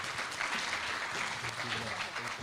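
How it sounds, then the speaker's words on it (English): Audience applause at a heritage-site ceremony as a deputy secretary general is welcomed to the podium, a brief continuous patter of clapping heard in the middle distance with some crowd murmur beneath. "Please give her a round of applause."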